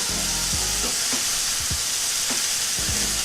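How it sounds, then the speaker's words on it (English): Keto turnip hash sizzles loudly and steadily in a hot pan, a dense continuous frying hiss broken by a few soft scrapes and knocks as it is stirred. "Let's give that a mix. Get it all sizzling there."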